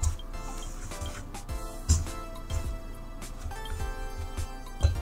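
Crepe batter of flour and eggs being mixed in a bowl, a faint, wet, squishy stirring with irregular soft clicks of the utensil against the bowl, continuing steadily throughout.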